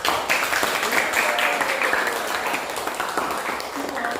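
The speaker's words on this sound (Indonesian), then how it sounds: "kita beri tepuk tangan untuk kita masing-masing" A classroom of students applauds together in a steady, dense wash of clapping that lasts throughout, with voices mixed in underneath.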